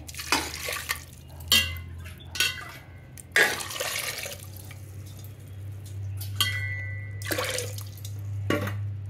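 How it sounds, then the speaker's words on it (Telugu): Water poured into a pressure cooker holding chopped beetroot, a steady low liquid flow running throughout with intermittent clanks and knocks of the metal pot close by. "ఉడకడానికి సరిపడా వాటర్ పోసుకోవాలండి."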